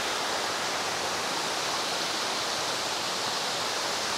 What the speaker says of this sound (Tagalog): Ito yung salipit falls.